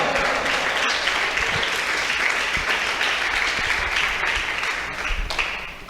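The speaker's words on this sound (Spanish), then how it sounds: "¿Cuántos pueden aplaudir al Señor en esta hora?" A church congregation claps together in a dense, continuous wave of applause that stays steady and moderately loud, then eases off slightly at the end.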